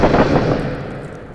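One loud, close gunshot from a video game, a single heavy burst that fades into a rolling, decaying boom with no voices.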